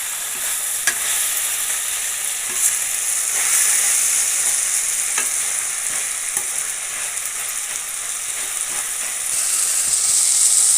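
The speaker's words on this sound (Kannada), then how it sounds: "ಸೊಪ್ಪನ್ನ ಚೆನ್ನಾಗಿ ಬೇಯಿಸ್ಕೊಳ್ರಿ. ಚೆನ್ನಾಗಿ ಎಣ್ಣೆಲಿ ಬಾಡಿಸ್ಬೇಕು," Fenugreek leaves sauté in hot oil for palav with a steady, loud sizzle and hiss that fills the whole stretch. Faint stirring scrapes rise now and then, and no voices are present.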